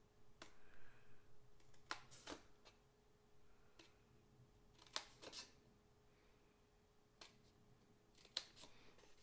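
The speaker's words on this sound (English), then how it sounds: "I'm going to cut up each of these vertical score lines, stopping at that first horizontal score line" Quiet paper snips cutting up along the vertical score lines of folded cardstock, a scatter of sharp, irregular snips and clicks with pauses between them and no talking.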